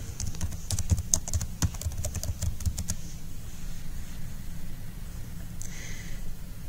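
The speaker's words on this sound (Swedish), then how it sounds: "skriver i mitt tänkta ord i rutan nedanför" Keys clatter on a computer keyboard as a search term is typed into a database box, a quick close run of taps over a low room hum before it falls quiet.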